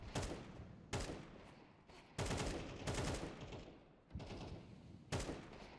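Gunfire in the video game Counter-Strike 2, with loud close bursts of rapid shots and repeated sharp volleys spaced about a second apart, some overlapping into fusillades, and no voices.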